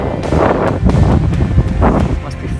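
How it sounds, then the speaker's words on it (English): Strong gale wind at Windy Harbour, Western Australia, roars and buffets the microphone continuously, loud and close, with rumbling low-end blasts rising and falling. "it's aptly named because it's blowing a bloody gale"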